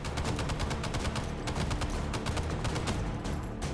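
An M60 machine gun fires in the VR game Hot Dogs, Horseshoes & Hand Grenades, letting off dense rapid bursts of shots with almost no gaps, loud and close.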